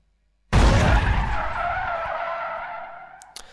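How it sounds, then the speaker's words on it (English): A Blind Drive video game impact layer in its negative version: a sudden loud crash of tire skids and rattling that bursts in and then slowly fades over about three seconds, with a couple of faint clicks at the end. "The second thing that helps is the tire skids and rattling sounds, which are much more intense in the negative version."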